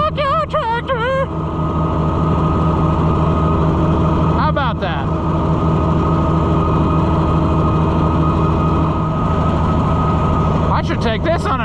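A junkyard Oliver Super 77 tractor runs on a test drive, its engine a loud, steady low rumble throughout, with someone talking and calling out briefly over it.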